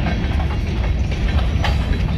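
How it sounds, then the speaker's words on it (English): A short freight train of about eight cars rolls past close by, a steady loud rumble with clickety-clack wheel beats running throughout and no voices. "but it's a train."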